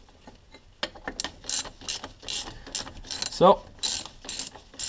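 Ratchet clicking in short quick bursts while loosening a brake caliper bolt on a 2003 Chevrolet Malibu, close and moderately loud, with light handling clatter around it.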